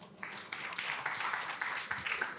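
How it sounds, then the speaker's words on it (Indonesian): A church congregation breaks into applause during a sermon, a steady wash of many hands clapping at moderate distance for a couple of seconds, with no voices over it. "Boleh tepuk tangan."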